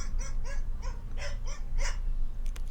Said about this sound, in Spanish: Como quinto punto el perro,